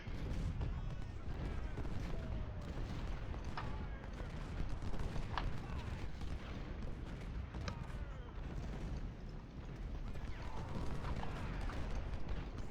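Artillery and small-arms fire in the Civil War strategy game Ultimate General: Civil War, a steady dense battle din with scattered distant booms and musket crackle running throughout at moderate level.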